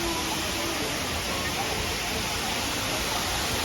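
A waterfall pours into a pool at its base in Kanchanaburi, Thailand, a steady broadband rushing wash at moderate level, with faint voices blended into the background.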